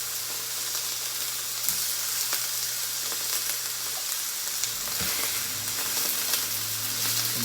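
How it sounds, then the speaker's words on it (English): Raw chicken pieces sizzling in bacon grease in a crowded pan, a steady close frying hiss with occasional light scrapes and clicks from moving the pieces around. "It's a sizzling."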